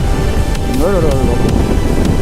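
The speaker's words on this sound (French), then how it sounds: "Comme vous pouvez le voir, ça souffle un peu." Strong wind buffets a motorcycle crossing the Millau bridge, a loud, steady broadband roar of wind noise across the microphone, with a brief rising and falling tonal sweep partway through.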